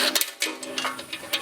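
Quick ratcheting clicks from a wrench with an extension undoing a 13mm nut on a Harbor Freight woodchipper, a short run of close metallic ticks in a steady rhythm with no voices.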